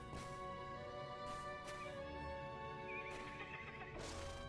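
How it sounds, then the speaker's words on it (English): Horses in the online game The Lord of the Rings Online neigh and whinny in several repeated calls over a steady bed of game ambience and faint hoof clops. "No bodies. Couple of horses."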